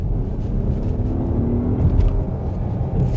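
A 2022 Acura MDX Type-S accelerating hard from about 20 to 50 mph, heard from inside as a loud, steady low engine rumble with a rising tone and no talk.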